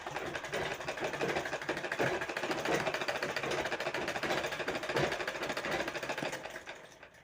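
Sewing machine stitching thread piping onto a blouse sleeve, a steady close rapid mechanical whir running nearly the whole time before tapering off at the end.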